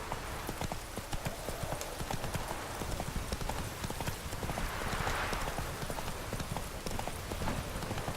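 Roach, a horse in the video game The Witcher 3, trotting with a quick, steady clip-clop of hooves throughout, close and prominent over faint background ambience.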